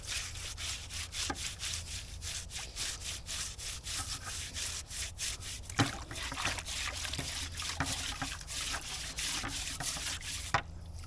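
Water wets a sugarcane stalk before it is washed for juicing, with wet trickling mixed into repeated rubbing strokes at close range. The sound is moderately quiet and there is no talk.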